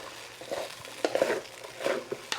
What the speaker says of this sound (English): I'm going to be throwing my carrots and green peas in here a little bit as I get this rice nice and hot.